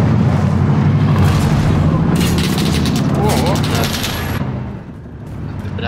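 Gunfire in the video game Call of Duty Warzone, with a sniper nearby: loud booming shots and rapid bursts crowd the mix, then ease off near the end.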